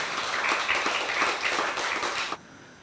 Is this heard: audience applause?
yes